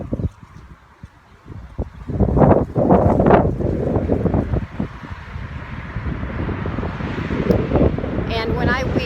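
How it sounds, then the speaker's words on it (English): Strong gusty wind outdoors in a yard during weeding, buffeting the microphone with loud, uneven low rumble that rises after the first couple of seconds and stays rough throughout. "it's really super windy out here today"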